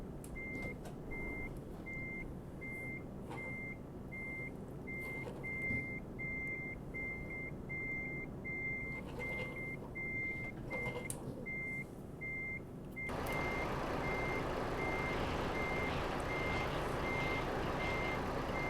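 In Euro Truck Simulator 2 multiplayer, several trucks reverse at once, and their beepers merge into a steady, evenly repeating beep. Partway through, the beeping continues under a louder rush of truck engine noise.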